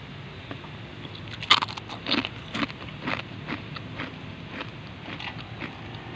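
Crunchy nachos and french fries are bitten and chewed close up, with sharp irregular crunches and crackles over a quiet background.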